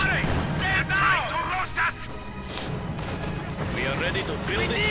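Anti-tank guns firing in the Company of Heroes 2 strategy game, with repeated booming shots and crashing impacts in a dense battle soundscape, heard under ongoing talk.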